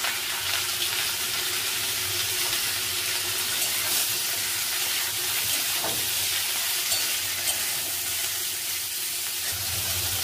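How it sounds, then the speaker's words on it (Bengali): Vegetables for a Malabar spinach stalk dish sizzle in hot oil with five-spice in a wok, a loud, continuous, close frying hiss with faint stirring underneath. "এর মধ্যে আমরা সবজিগুলোকে আগে দিয়ে দিলাম"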